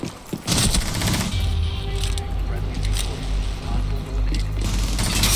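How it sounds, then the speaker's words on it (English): Rapid bursts of automatic gunfire from the Rainbow Six Siege video game, loud and close, crackle through most of the stretch under a player's chatter. "I headshot on Ash, dude."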